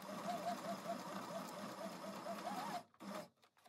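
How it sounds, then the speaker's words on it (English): A sewing machine stitches through paper butterflies for junk journal ephemera, a fast steady whirring chatter for nearly three seconds, then stopping and giving a couple of short bursts. "I'll set the foot down approximately where her head is and I'm just going to keep sewing about a centimeter after her body ends."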